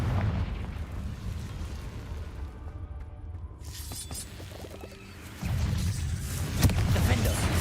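A Confringo blasting spell erupts in Hogwarts Legacy, a loud, broad fiery burst and rumble that swells near the end among dense game sounds.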